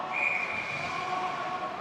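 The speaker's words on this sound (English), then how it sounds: "As the whistle's been called." A referee's whistle at an IHV Premier A ice hockey game between the Demons and the Jets, sounding as one sustained shrill blast of over a second, moderately distant and faint, with no talking.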